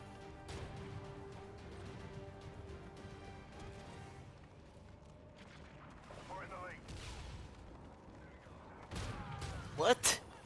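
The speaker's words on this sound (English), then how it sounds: "Watch the hip fire." Proteus rifle hip-firing in Infinite Warfare hardcore mode, a dense run of game gunfire under steady background game noise, ending in a few louder close bursts.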